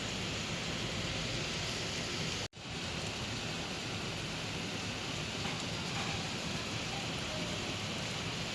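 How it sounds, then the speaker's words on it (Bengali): Heavy rain pours down outside during a trip toward Shimla, making a dense, constant hiss that is broken only by a brief dropout near the start and then continues steadily. "এই দেখো বাইরে ঝমঝমিয়ে বৃষ্টি পড়ছে"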